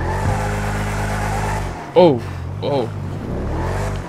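A car in GTA 5 Online accelerating, a steady engine drone that gives way to a sharp rising rev and a second shorter surge, with a brief spoken exclamation over it.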